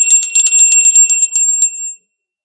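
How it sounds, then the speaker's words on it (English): A small hand bell rings in a quick rapid series of bright, shimmering strikes lasting under two seconds, loud and close, then cuts off into silence. "I'm going to ring the bell"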